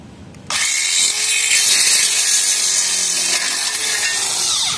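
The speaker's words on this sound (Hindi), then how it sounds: "इसीलिए इसको हम ड्रिल मशीन से काटते हैं।" A drill machine bites into an aluminium window frame to cut a lock slot, starting abruptly and holding a loud, bright, harsh whine close by with a grinding edge and slight shifts in pitch.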